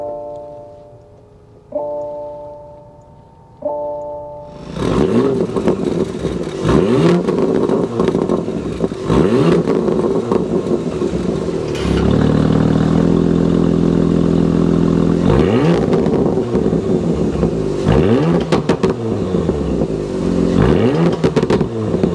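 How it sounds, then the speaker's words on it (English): A Porsche Macan GTS is started from inside the cabin, a few chimes giving way to the engine catching, then repeated sharp revs of the exhaust rising and falling over a steady idle, loud and near. "start up this GTS so you can hear that exhaust note"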